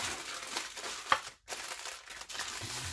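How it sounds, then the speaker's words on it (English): Foil crinkles and rustles steadily for a few seconds, close up, with one sharper crackle partway through and a brief pause before the crinkling resumes. "I'm going to cover it with tin foil."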